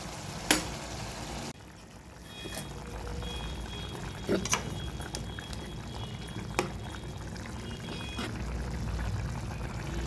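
Water is poured into a pot of mutton curry that has ginger-garlic paste, salt and turmeric, giving a faint, soft pouring and liquid sound with a few small clinks.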